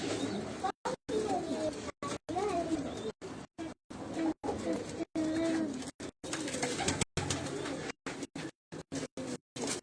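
Pigeons coo repeatedly in a loft of prized low-flying pigeons, their soft throaty calls recurring throughout amid other bird chatter and nearby human voices, with the audio choppy and cut by frequent brief dropouts.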